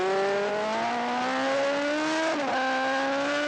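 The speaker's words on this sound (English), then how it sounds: "the sights and sounds of riding a superbike" A superbike engine recorded on board at a racetrack screams loud and close, its high-revving whine climbing steadily and then dipping sharply at a gear change before pulling up again.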